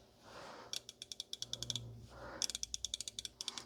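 A Capri Tools XL locking flex head ratchet clicks in two quick bursts, each a rapid run of sharp, close metallic ticks from its small head, with faint breathing-like noise between the runs.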